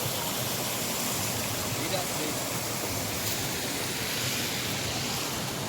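Badaghagara waterfall in Keonjhar pours in a steady, loud, unbroken rush of falling water, a dense broadband roar that stays constant throughout with no voices over it.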